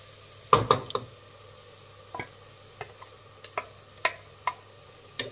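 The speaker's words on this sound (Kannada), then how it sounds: "ಗ್ರೀನ್ ಮಸಾಲ, ಅದನ್ನು ಹಾಕೊತಾ ಇದ್ದೀನಿ." A ladle taps and scrapes in a pan as ground green masala is stirred into fried fenugreek leaves for methi peas rice, with distinct clanks spaced about every half second over faint frying.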